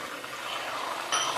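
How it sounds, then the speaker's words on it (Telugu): Salt water poured in small drops into hot oil of frying potato chips, making a soft, steady watery hiss with a brighter burst of sizzle near the end, close and without speech. "ఇదిగోండి సాల్ట్ వాటర్ పోస్తున్నా"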